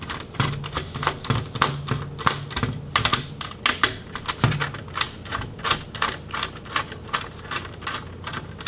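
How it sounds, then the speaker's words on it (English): Laptop heat sink screws on a Dell Precision 7510 click repeatedly as they are loosened, a quick, sharp run of close, crisp ticks in an uneven rhythm with no talking. "so you'll know it's all the way loose when you hear it start clicking."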